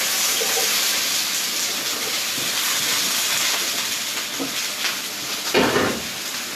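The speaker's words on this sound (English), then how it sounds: "Lovely sizzle." Smoked mackerel, venison and vegetables sizzle in a hot stir-fry pan with a steady, bright hiss throughout, a few soft clinks and stirring scrapes near the end.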